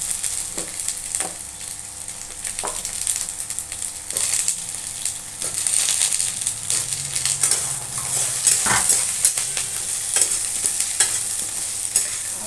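Wilted curry leaves sizzle in a frying pan as they are stirred. Scraping strokes against the pan and the odd clink of utensils sound close by over a steady hiss of hot oil, with no talk.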